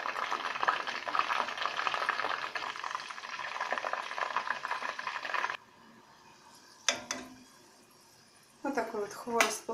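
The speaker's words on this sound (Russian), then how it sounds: "теперь берем одну нашу заготовочку и опускаем в масло" Khvorost dough pieces frying in hot oil, a dense steady sizzle filling the first half, then quieter with brief clatters and a voice speaking near the end.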